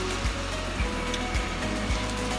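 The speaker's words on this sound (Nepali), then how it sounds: "पानी परिरहेको छ" Steady rain pours down in a broad, even hiss, with soft regular thuds underneath that could be footsteps.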